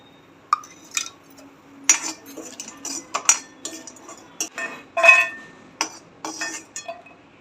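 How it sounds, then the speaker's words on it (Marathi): Black cardamom pods dry-roast in a pan with a little oil for homemade garam masala, giving close, irregular metallic clinks, taps and rattles that come in scattered bursts with short quiet gaps between them. "मोठी इलायची ती पण भाजून घेऊ"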